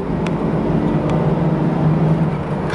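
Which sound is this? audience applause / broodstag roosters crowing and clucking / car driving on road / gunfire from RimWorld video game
car driving on road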